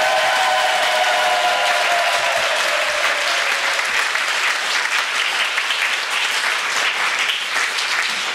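A church congregation applauds at the end of a prayer during a Catholic priest's sermon, with steady, dense clapping filling the room for about eight seconds, loud and continuous.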